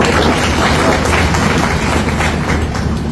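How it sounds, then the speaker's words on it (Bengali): An audience at a Bangladeshi expatriate education event gives a round of applause on request, a loud, dense wash of many hands clapping close by with a few thumps mixed in. "সবার উদ্দেশ্যে এবার একটা হাততালি দিতে হবে"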